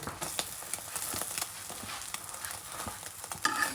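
An egg frying in a pan gives a steady, soft sizzle with faint scraping and stirring clicks, fairly close and continuous with no talk.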